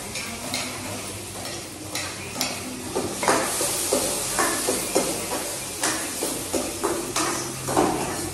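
Chopped onions hiss and sizzle in a hot pan on a home stove, while a spoon stirs and scrapes the metal in a steady rhythm of clanks.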